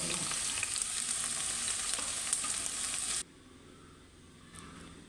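Small shallots hit a pan for beef roast and fry with a steady, close sizzle and light stirring, then the sizzle cuts off abruptly, leaving a quiet background and a couple of faint clinks.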